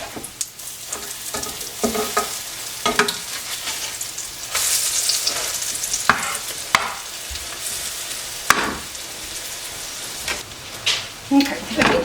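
Bacon fries in a pan with a constant close sizzle and crackle, marked by scattered utensil clicks and scrapes, while a person talks intermittently over it.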